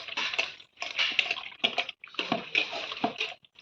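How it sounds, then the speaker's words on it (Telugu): Chicken eggs are rubbed with salt and rinsed with water in short bursts of wet scrubbing and splashing, broken by brief pauses, close by and fairly clear. "ఇట్లా ఉప్పు వేసి రుద్దుకొని నీళ్ళు పోసుకొని కడుక్కుంటే"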